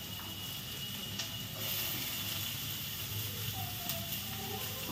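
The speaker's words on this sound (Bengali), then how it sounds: "তো দেখো আমি এখানে পেঁয়াজ দিয়ে দিলাম" Onion drops into hot oil in a pan and sizzles, a continuous close hiss with a few faint clicks.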